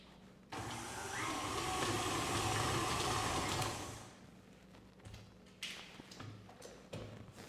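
An electric mixer beats colored Christmas cookie dough, whirring loudly and steadily for about three and a half seconds, then cutting to softer bursts and clatter as the mixer starts and stops.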